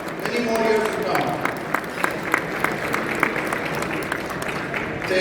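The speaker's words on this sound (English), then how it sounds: "So can I have a round of applause for everyone who has supported us" Audience at a community gala breaks into applause, a broad wash of many hands clapping with scattered louder claps, holding steady for several seconds in a large hall.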